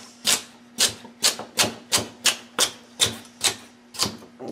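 An inexpensive chef knife chops through a thick, dense carrot on a cutting board, giving about ten sharp, evenly spaced chopping thuds with no talking.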